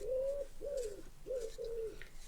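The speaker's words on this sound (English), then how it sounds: "I'm sure you can hear that delightful pigeon" A pigeon coos outdoors in a steady repeating rhythm of soft, low, rolling calls, heard alone at a modest distance with faint background.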